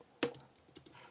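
Code typed on a computer keyboard, one sharp key click followed by several lighter, quick taps, close and quiet with no talking.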